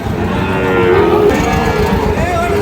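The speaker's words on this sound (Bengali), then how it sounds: "গরু" A cow moos loudly and close by in one long, drawn-out call at a cattle market selling Sahiwal bull calves, with low farmyard noise underneath.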